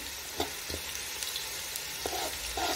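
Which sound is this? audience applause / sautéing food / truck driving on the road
sautéing food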